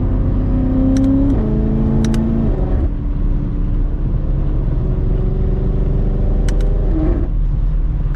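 A straight-piped BMW F90 M5 accelerating through New York City traffic: a loud, close engine roar whose revs climb, drop at gear changes and climb again over a steady low rumble.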